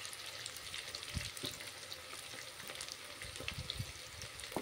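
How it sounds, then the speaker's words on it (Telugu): Sliced onions with curry leaves and a little salt frying in oil for a chicken curry, giving a steady close sizzle with scattered crackles and pops throughout, no voices. "ఉల్లిపాయ బాగా ఫ్రై అయిపోయింది కదా."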